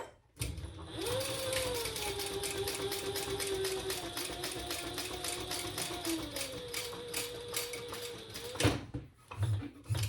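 A sewing machine top-stitches the upper lining of a gusset on a bag pattern, running in a fast, even mechanical chatter for about eight seconds before stopping, followed by a few short clicks and handling noises.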